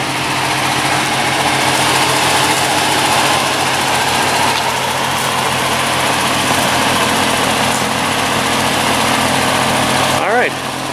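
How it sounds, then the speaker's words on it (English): A 1973 Ford Capri engine with an exhaust leak at the front idles continuously with a low rumble and faint ticking, running close by throughout; talk is heard over it, and the noise drops briefly near the end. "Got a little exhaust leak at the front."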